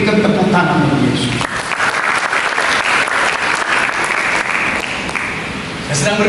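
A church congregation applauds during an Indonesian sermon, a loud, dense wash of clapping and cheering filling the space throughout, with voices mixed in.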